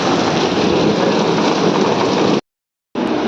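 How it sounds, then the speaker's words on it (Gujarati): Heavy rain pours steadily outdoors as a loud, dense, unbroken hiss that cuts off abruptly for about half a second before resuming. "વરસાદ ફૂલ ચાલુ થઈ ગયો છે"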